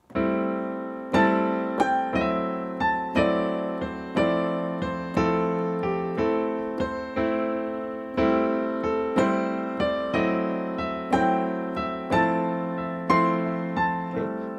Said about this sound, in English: This is the sound of 8th notes.